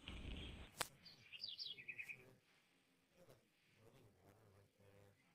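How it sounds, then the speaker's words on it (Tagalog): A few short bird chirps and tweets ring out in quick succession, fairly faint, after a brief sharp noise, with quiet rustling ambience around them, in a video game. "Ibon."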